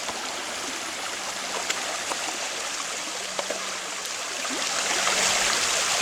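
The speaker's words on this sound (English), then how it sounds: "This is just a little bit of fast water to get to the rapids." Fast-moving river water rushes steadily just below a set of rapids on a back-country kayak trip, a continuous close, loud broadband roar with faint splashes, growing slightly louder near the end, with no talking.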